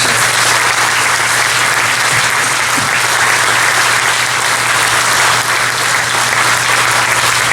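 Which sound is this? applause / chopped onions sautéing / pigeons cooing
applause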